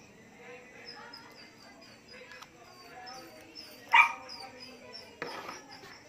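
A dog barks indoors during slime-making with glitter, giving one loud sharp bark near the middle and a fainter yelp later. Birdlike chirps and soft background clatter run throughout.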